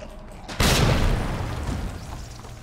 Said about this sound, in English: That was such a waste of a grenade